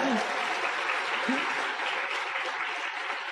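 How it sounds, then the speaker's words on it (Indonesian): A seminar audience claps together in a steady, even wash of applause that stays constant from start to finish, with a brief voice at the very beginning. "Tepuk tangan buat Anda semua ya."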